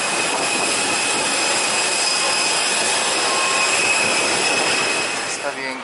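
A jet airliner's engines roar steadily on the tarmac at an airport, a loud, broadband whine with high-pitched tones, heard from close by beneath the plane.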